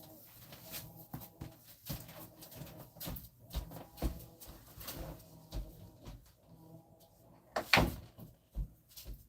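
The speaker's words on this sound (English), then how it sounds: "I'm going to go shut the bathroom door so we don't have to listen to the washing machine." A bathroom door swings shut with a soft thud near the end, amid scattered quiet household knocks and faint background sounds.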